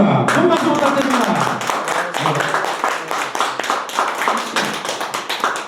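Audience clapping for a former university president being introduced at an anti-corruption education lecture, a dense patter of hands with voices audible underneath.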